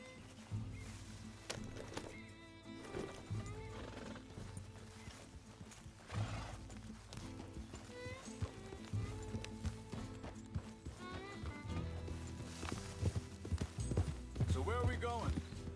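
Horse hooves clip-clopping in Red Dead Redemption 2, a steady rhythmic beat with occasional whinnies under game music and character dialogue.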